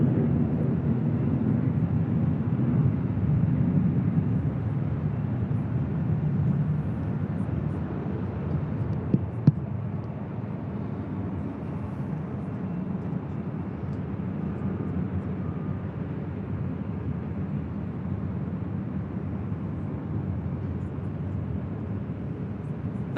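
An airliner landing on the north side runway at LAX gives a steady, fairly loud broadband roar that fades slightly after a brief click midway, with a faint voice underneath.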